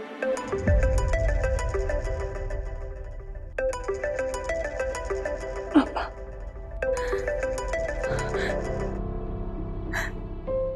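A phone rings over speakerphone in a family drama scene. A repeating electronic ringtone melody comes in several bursts with short gaps between them, with gasps and emotional sounds mixed in.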